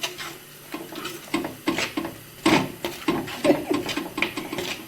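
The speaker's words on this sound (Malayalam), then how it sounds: "ഇഞ്ചി വെളുത്തുള്ളി പേസ്റ്റ് അതും കൂടെ അതിലോട്ട് ഇടുക. ഒന്ന് മൂത്ത് വരട്ടെ" Ginger garlic paste sautéing in a pan for a Kerala mackerel curry, with irregular scraping and clinking of a spoon against the pan over a faint background sizzle.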